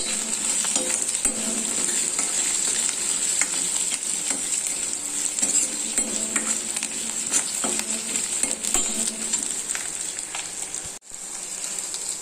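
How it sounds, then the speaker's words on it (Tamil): Onions, garlic and curry leaves sauté in a pan for a small onion gravy, making a continuous medium sizzle with occasional stirring clicks and a short pause near the end. "வெங்காயம் பூண்டு நல்லா வதங்கிடுச்சு"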